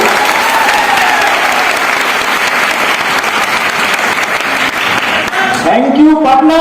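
A large audience at a motivational talk in Patna applauds loudly and steadily at close range, a dense wall of clapping that lasts several seconds before it fades and a voice starts to speak.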